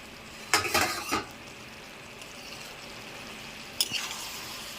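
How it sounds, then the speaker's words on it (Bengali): A metal lid lifted off a pot of cooking aloo posto, a few sharp clinks and a scrape up close, followed by another brief clatter over a quiet sizzling background. "এবারে আমি ঢাকনাটা খুলে দেব।"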